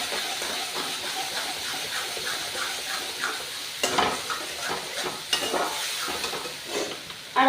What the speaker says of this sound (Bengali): এবার এটাকে নাড়িয়ে নাড়িয়ে ভালো করে শুকিয়ে নিতে হবে।